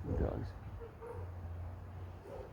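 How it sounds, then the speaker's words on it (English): Dogs bark and whimper in short yips close by at a home, with a leaf blower droning steadily in the background; the barking comes in brief bursts. "Oh, those fucking dogs."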